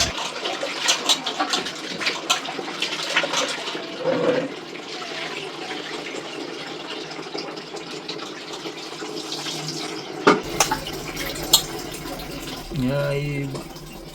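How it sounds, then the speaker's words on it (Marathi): Water from a tap runs steadily into a container while raw chicken is washed, with a continuous splashing rush that shifts at times. A person talks over the flowing water. "शुद्ध पाण्याने शुद्ध पाण्याने चिकन धुवून घ्यायचे"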